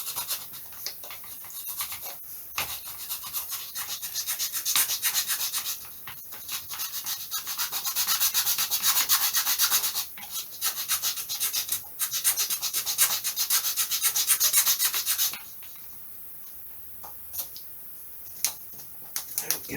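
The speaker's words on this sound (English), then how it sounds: "I think I'll just put a little bit more filing in there." Hand file working a part on a 1/6th scale Tiger Moth model airplane build, giving continuous close scratchy rasping strokes in uneven bursts, quieter toward the end, no voices.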